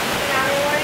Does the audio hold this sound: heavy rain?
yes